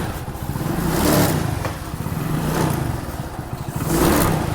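A motorcycle engine nearby, rising and falling in slow surges like repeated revving, with a rough, clattery tone and no voices.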